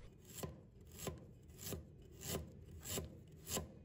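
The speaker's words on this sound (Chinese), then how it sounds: "再准备1块去皮的生姜，把它切成片" A knife slicing peeled fresh ginger on a board, six evenly spaced crisp cutting strokes with a rasping edge, close and quiet.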